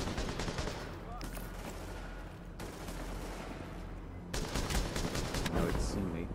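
An enemy turret in The Division fires sustained, rapid bursts of heavy gunfire, loud and continuous with a short break midway before the barrage resumes even harder; faint voice-like sounds sit beneath the shooting.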